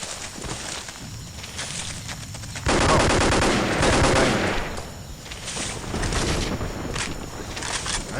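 Gunfire in the video game Vietcong, bursts of automatic fire close by with rattling shots, a louder sustained volley in the middle and more bursts after, with no talk.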